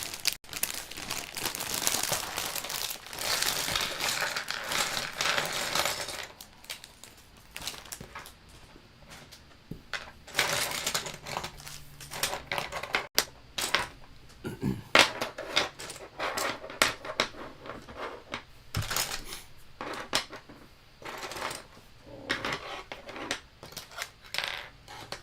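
Loud clattering and rattling of small plastic Lego pieces being shuffled and sifted, in dense bursts with brief pauses, close and busy throughout.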